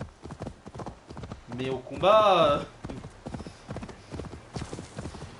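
Horse hooves clopping in Assassin's Creed Valhalla, a steady galloping rhythm running under continuous talk, with a brief louder swell where a whinny-like cry rises midway.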